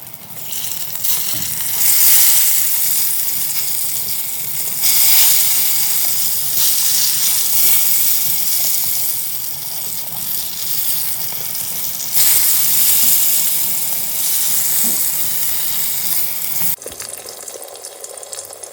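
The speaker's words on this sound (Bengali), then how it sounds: "লাস্টে চলছে ডিম ভাজা" Eggs fry in a pan during a home meal of khichuri. A loud, continuous hissing sizzle surges and eases in waves, then drops abruptly near the end, with no one speaking.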